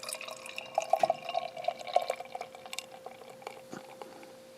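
Avery Maharaja Imperial IPA beer pours into a glass with a soft, steady liquid gurgle and light fizzing drips, close and fairly quiet, with no talking.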